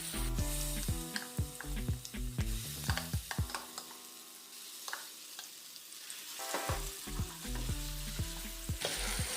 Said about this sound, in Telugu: పచ్చడి మనం ఈ తిరగమాతలో ఈ పోపులో వేసేసి కలుపుకున్నాం